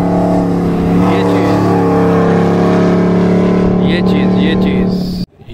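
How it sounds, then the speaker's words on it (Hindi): A rally jeep in the Cholistan desert rally roaring past with a loud, steady engine drone and shifting pitch, ending abruptly; someone talks over it. "ये जी एक और गाड़ी आ रही है"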